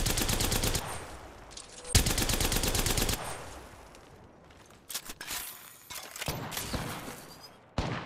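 Rapid bursts of automatic gunfire from an Apex Legends match, loud and dense for the first few seconds, then scattered shots and impacts with quieter gaps between them.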